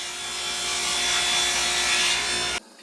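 Saw cross cutting large Baltic birch plywood panels on a panel sled, a loud, steady whirring cut lasting over two seconds that ends sharply.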